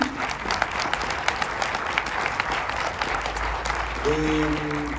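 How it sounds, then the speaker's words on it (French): Audience applause at the Cannes premiere of the documentary My Coluche, greeting the film's editor, steady clapping throughout with a voice and some tones near the end. "Si elle est là, on l'applaudit."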